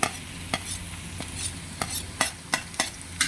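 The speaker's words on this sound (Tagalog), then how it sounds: "Ilagay na natin yung ating bawang at sibuyas." Garlic and onion hitting hot oil in a pan for a simple Bicol express, sizzling steadily while a spatula scrapes and stirs in sharp, regular strokes, close and fairly quiet, with no talk.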